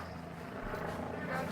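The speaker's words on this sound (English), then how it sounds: "at least 2 news helicopters going around" Several news helicopters circle overhead above the Seattle CHOP/CHAZ protest zone, a steady broadband rotor drone filling the moment with faint voices in the background.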